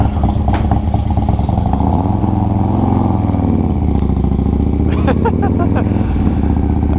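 A Harley-Davidson motorcycle with a 120R twin cam engine rumbles steadily up close while riding at light throttle, with a rider talking over the loud, continuous engine drone.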